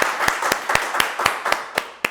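Close, brisk hand clapping in an even rhythm, about four claps per second, continuing without a break, at a weekly prize draw for a Zeekr car.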